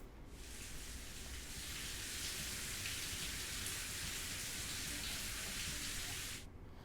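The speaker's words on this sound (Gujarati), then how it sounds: "બપોર પછી અચાનક જ વાદળછાયા વાતાવરણની વચ્ચે પવન સાથે વરસાદ વરસવાનો શરૂ થઈ ગયો હતો" Steady rain falls with wind during a sudden afternoon shower under cloudy skies in Mahisagar, Gujarat, a dense even hiss that swells in quickly and stops abruptly near the end, with no voices.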